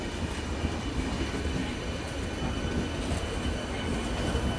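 A MEMU train rolls out of Almatti railway station, a loud, continuous rumble of wheels and coaches with faint squealing over the top.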